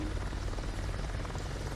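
A helicopter in Microsoft Flight Simulator 2024, likely the Hunter, gives a steady, dense rotor and engine drone that holds continuously at close range without pause.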